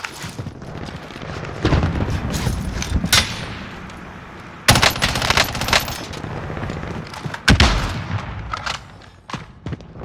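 Rapid automatic gunfire and heavy blasts from a Call of Duty Warzone match come close and loud in repeated bursts, with sharp impacts breaking up a constant battle din.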